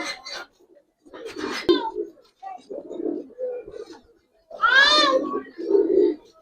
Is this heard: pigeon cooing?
yes